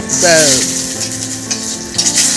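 Whole spices (bay leaf, dried red chillies, black cumin, black pepper and whole garam masala) crackle in a little hot oil in a wok for dhaba-style paneer masala. The close, steady sizzle carries a brief tonal whine near the start.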